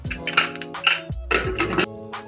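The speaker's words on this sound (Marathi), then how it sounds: "कुकर करूया बंद।" A metal pressure cooker lid being fitted and closed over dal with water, turmeric and salt: a few close clanks and scrapes with ringing metallic tones, short and distinct.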